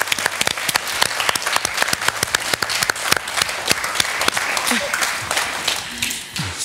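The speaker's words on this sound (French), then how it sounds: "on l'applaudit." Audience applause fills a room at a French chronicle segment, dense close clapping that carries steadily and then thins out near the end as a voice begins talking over it.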